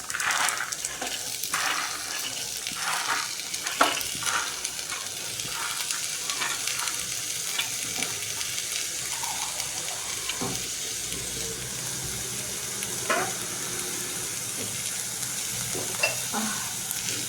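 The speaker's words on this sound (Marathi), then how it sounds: "आता मी चणे घालते याच्यामध्ये।" Chickpeas frying and being stirred in a pan, a continuous close sizzle broken by repeated scrapes and clinks of the spoon against the metal.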